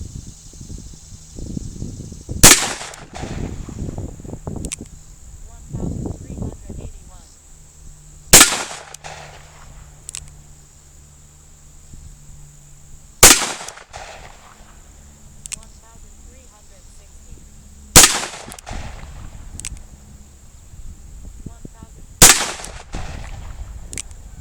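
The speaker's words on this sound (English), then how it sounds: "So we're going to go shoot these in the Smith & Wesson Model 610" Five sharp 10 mm gunshots from a Smith & Wesson Model 610 revolver crack out at evenly spaced intervals of several seconds, loud and close, at an outdoor range with quiet movement and insect hum between shots.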